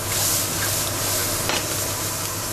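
Mushrooms frying in bacon fat in a pan, a loud, close, continuous sizzle with a brief surge of crackle midway, no talking.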